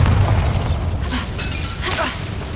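The Bombarda blasting spell in Hogwarts Legacy, a loud booming burst with a low rumble and scattered shattering crackles, up close, with a voice faintly present.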